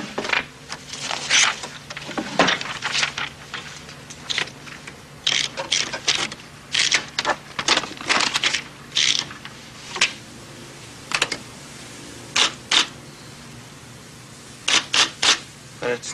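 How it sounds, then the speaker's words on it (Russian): An IBM Selectric typewriter with a golf-ball type element types in irregular bursts of rapid, close mechanical clicks and clatter, broken by short pauses, with no other sound over it. "Шар печатает буквы."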